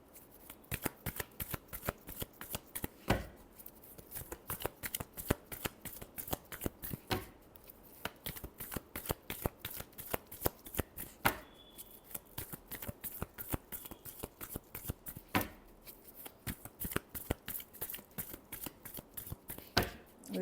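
Tarot cards being shuffled, a rapid run of crisp riffling flicks and slaps repeating steadily up close, with no talking.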